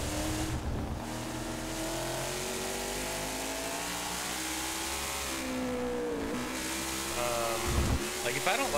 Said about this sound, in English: I am pressing the gas pedal.